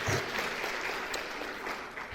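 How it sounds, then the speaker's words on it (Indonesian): Brief audience clapping during an Indonesian sermon about Covid-19, a short burst of many hands applauding at moderate volume, with no one speaking over it. "ya boleh beri tepuk tangan silahkan"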